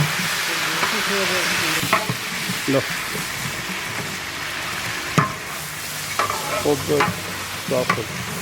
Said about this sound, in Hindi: ये चिकन हमने इसमें डाल दिया है और साथ ही जो है इसमें लहसुन और अदरक जो है ना ये हम डालेंगे।